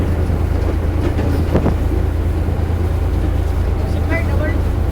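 The Mohenjo Daro Express passenger train on the Sehwan line rolls along with a continuous low rumble and faint rhythmic wheel clatter, heard steadily from inside the moving train.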